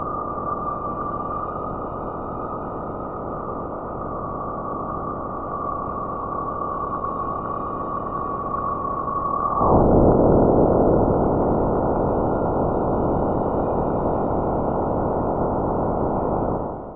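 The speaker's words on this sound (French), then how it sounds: "Ce sont des processus électriques d'une puissance colossale qui se produisent dans le champ magnétique de Jupiter" Spacecraft recording of electrical processes in Jupiter's magnetic field, near the largest planet: a thin sustained whistling tone over dense hiss, which at about ten seconds breaks into a louder, rougher broadband roar that holds steady to the end.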